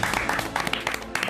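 A studio audience on a music entertainment show claps in a dense, steady burst of applause, with voices mixed in underneath.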